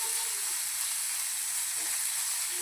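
Pizza toppings including paneer fry in a hot pan with a steady, bright sizzle and hiss that holds close and even throughout, with no voices present.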